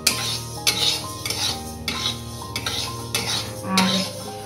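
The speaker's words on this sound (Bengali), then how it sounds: "এভাবে অনবরত নাড়তে হবে।" A spatula stirs moong dal dry-roasting in a pan, scraping and clinking against the metal in repeated, rhythmic strokes, close and fairly loud, with faint music underneath.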